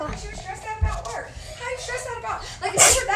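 A single sharp sneeze bursts out near the end, loud and close, following a stretch of casual talk from a livestreamer playing Among Us and Dino Squad.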